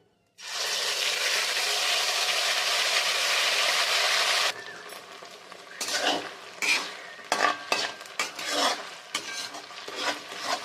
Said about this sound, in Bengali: বেশ ভালো করে আমি এটাকে কষিয়ে নেব